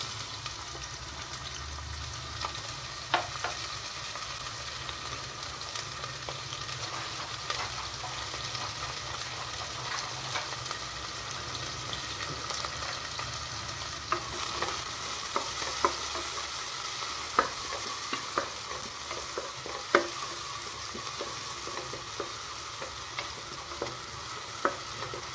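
Onions sizzle and fry steadily in a hot pan for home-style chicken curry, with frequent scraping stirs of a spoon against the pan, close and continuous throughout.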